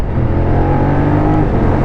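A motorcycle accelerating hard along a country road near Cisoing in northern France, its engine a loud, close, steady drone with strong harmonics and no voices.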